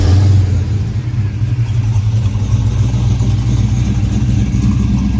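An LS3 V8 swapped into a 2003 Chevrolet Silverado rumbles loudly and steadily close by with an exhaust running out the back, its deep engine drone holding with slight revving swells.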